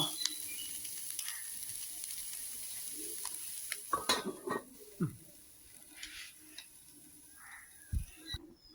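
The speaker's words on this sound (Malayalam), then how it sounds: "ഇനി ഇത് മൂടി വെച്ച് നന്നായി ഇളക്കിയതിൻ്റെ ശേഷം മൂടി വെച്ച് വേവിക്കാം" Nithya vazhuthananga brinjal thoran cooks in a pan with a soft sizzle, a spoon scraping and clinking against the pan in bursts midway, and no voices.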